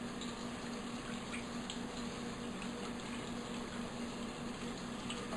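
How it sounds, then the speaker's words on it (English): A bird thawing in a kitchen sink has water running through it: a low, steady, even rush of flowing water that continues unchanged the whole time. "you want the water to be able to pass through clear"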